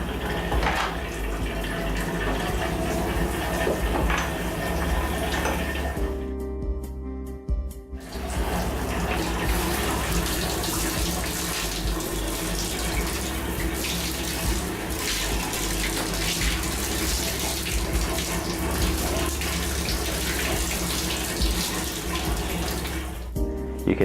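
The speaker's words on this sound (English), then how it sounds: "washing the mask inside out" Running tap water pours over a face shield mask being washed inside out, a continuous loud splashing stream with a brief break midway before flowing again.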